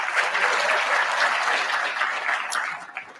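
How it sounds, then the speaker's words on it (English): Audience at an annual press awards dinner breaks into steady, moderately loud applause that tapers off near the end, with no talk over it. "A round of applause there, please."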